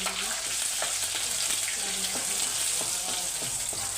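Curry leaves roasting in a hot pan give a steady, close crackling sizzle with faint stirring scrapes, continuous and without talk.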